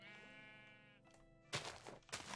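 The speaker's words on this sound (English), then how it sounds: "You like your little island sheep?" Sheep bleating in the Minecraft video game, a short harmonic bleat followed by two louder noisy bursts, heard alone and fairly close without talk.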